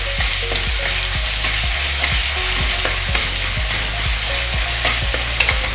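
Green paste with cumin and curry leaves frying in a pan for bread potato patties, a loud, continuous sizzle broken by regular scraping stirs at close range, with no talking.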